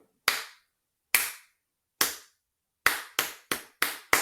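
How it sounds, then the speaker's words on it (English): Single sharp claps, close and loud, in the rhythm of an ice hockey crowd chant: three widely spaced claps followed by a quicker run of five. "And they start clapping faster."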